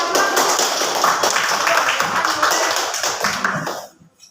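Classmates at an elementary school clap for a group coming forward to present their water-cycle diorama, a dense, steady patter of many hands that keeps up before fading out near the end.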